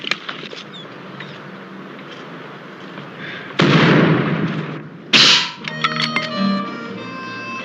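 Rifle shots ring out in an old Western setting, two sharp, loud cracks a couple of seconds apart, each with a rolling echo, over faint background ambience.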